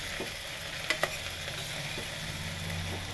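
Sprouted moong and moth beans frying with ginger-garlic paste in a pan give a quiet steady sizzle, with a couple of sharp close stirring clinks near the middle and no talk.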